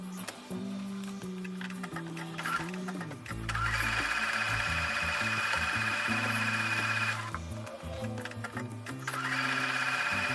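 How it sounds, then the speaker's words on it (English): A sewing machine stitches a quarter-inch quilt seam in two long steady bursts, close up, with softer handling clicks and fabric shuffling before and between. "I'm going to take those over to the sewing machine and sew with a 1/4 inch seam"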